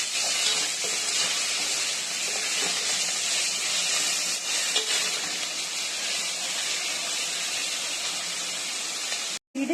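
Onions, curry leaves and salt sautéing in hot oil for a spicy crab masala, a steady, loud broadband sizzle holding evenly throughout with no talking, cutting out briefly near the end.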